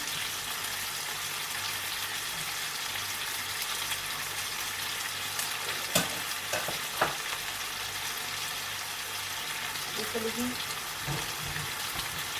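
Onions sizzling in a pan during steak cooking, a steady frying hiss throughout with a few brief clanks of stirring near the middle.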